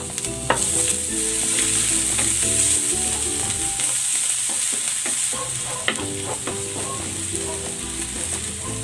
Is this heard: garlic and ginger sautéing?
yes